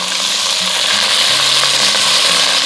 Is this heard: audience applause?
no